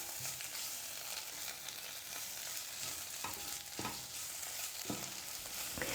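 Onions sizzle and fry in oil with ginger garlic paste, a steady crackling hiss broken by a few sharp stirring scrapes of a spoon against the pan, heard up close with no voices.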